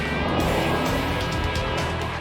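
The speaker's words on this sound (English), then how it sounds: "An empty car doing donuts and a police car with its lights flashing." An empty car spins donuts on a street beside a fire hydrant, its engine droning steadily close by with a broad rough roar and faint tire scrub throughout, no voices over it.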